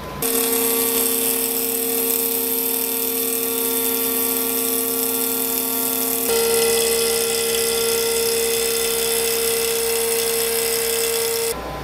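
A power tool cutting clear acrylic window parts for a PC case door panel makes a continuous, loud, high-pitched whine that shifts slightly in tone partway through.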